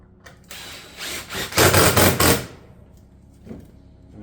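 A 2.5-inch screw being driven through a shingle ridge vent into roof decking. Whirring mechanical bursts build to a loud, dense stretch of about a second and then stop, followed by one short fainter burst.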